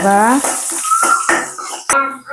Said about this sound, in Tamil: கடுகு படித்த உடனே வெங்காயத்தை போட்டுக்கொள்கிறேன் வடக்கி விடுவோம்